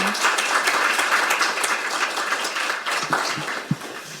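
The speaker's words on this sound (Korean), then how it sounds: "큰 박수로 맞아주시기 바랍니다." Audience applause at a parliamentary animal-welfare forum greeting a speaker, dense steady clapping from a seated crowd that tapers slightly near the end.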